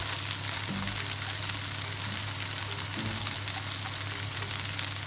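Gnocchi and mushrooms fry in a pan with a steady, soft sizzle that runs evenly throughout, broken by a couple of faint clinks.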